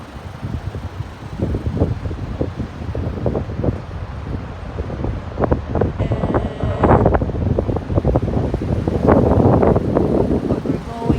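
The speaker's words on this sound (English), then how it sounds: "It's so windy outside." Gusty wind buffets the microphone in low rumbling surges, with a person talking faintly underneath.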